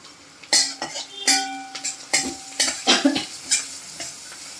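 Onions browned in a pan with turmeric stirred in, a series of sharp spatula scrapes and clinks over a soft sizzle, about eight distinct strokes at an uneven pace, close and fairly loud with no speech.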